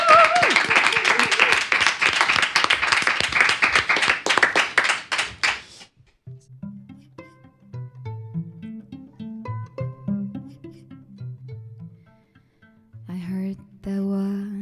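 A burst of enthusiastic applause and clapping from a studio audience for several seconds, then fading into a quiet, soft piano melody.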